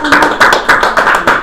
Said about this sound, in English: She accepts your applause.